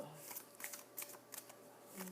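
Tarot cards are shuffled by hand in soft, quick riffling bursts, close and quiet, with faint room hush between the flurries.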